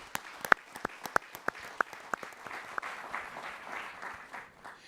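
A round of applause for the Howard University scholars at a college quiz bowl quarter-final: a few loud, sharp individual claps ring out first, then blend into a softer, steady wash of clapping that tapers off.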